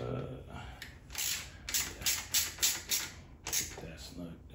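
Bolts on a Holley mid-mount accessory drive in an LS-swapped G-body car are snugged up with a wrench, producing a close run of rhythmic ratcheting clicks and scrapes that repeat steadily for a few seconds.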